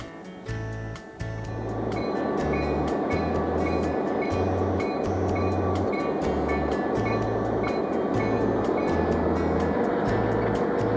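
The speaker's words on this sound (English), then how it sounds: "Once the train has been put together, Sean Young inspects the train before it lea" A Finger Lakes Railway freight train rumbles past close by between Himrod and Watkins Glen, New York, starting up after a moment into a steady, loud roll with a rhythmic low pulsing of wheels.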